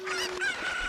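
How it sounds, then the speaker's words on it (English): A chicken in the video game Ocarina of Time gives a short burst of clucking, brief and moderately quiet, with no other sounds around it. "So while a chicken is hopping"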